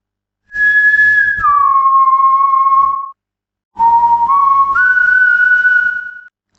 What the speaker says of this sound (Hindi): सीटी सी सुनाई दी।